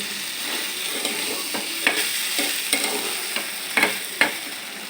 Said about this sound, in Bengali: মিক্স করে আমি একটু ভাজা ভাজা করে নিই